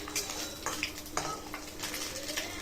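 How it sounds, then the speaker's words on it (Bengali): Fish deep-fries in a pan with a bright, continuous sizzle. A utensil scrapes and clinks against the metal several times as the pieces are turned over, close by. "মাছগুলো প্রায় হয়ে এসছে ডিপ ফ্রাই এবার আস্তে করে উল্টে দেওয়া দেওয়া হবে"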